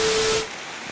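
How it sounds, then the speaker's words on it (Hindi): Heavy rain on an Odia morning pours down as a loud, dense broadband hiss; a steady tone runs through the first half, then the downpour drops to a softer, steadier wash. "बहुत जोर आज वर्षा होची"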